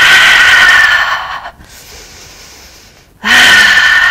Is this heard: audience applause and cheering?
no